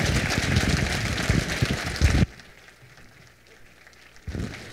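Audience applause for a speaker at a conference keynote in Brazil, a dense burst of clapping that fills the first two seconds, cuts off abruptly into near silence, then returns briefly at the end.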